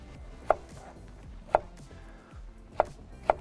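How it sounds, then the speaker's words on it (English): A kitchen knife chops through flat leaf parsley on a board outdoors, four sharp, separate strikes spaced about a second apart, close and clear over a low background rumble. "Just running the knife through once"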